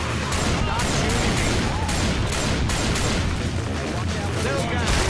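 Dense, continuous gunfire from Left 4 Dead 2's Dead Center campaign, loud and unbroken with overlapping shots and explosive booms throughout, with game voices shouting over the battle.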